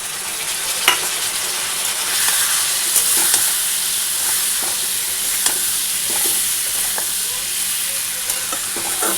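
Squash and potato fry in a pan with soaked cumin powder and cumin seeds, giving a steady broad sizzle as a utensil stirs them, with intermittent scraping clicks close by and no voices.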